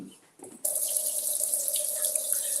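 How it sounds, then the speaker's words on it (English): Steady tap water runs into a sink as hands are washed beneath it, a continuous bright splashing stream that starts abruptly after a brief quiet moment and carries on alone. "let me wash my hands"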